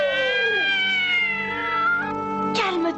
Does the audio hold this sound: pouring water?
no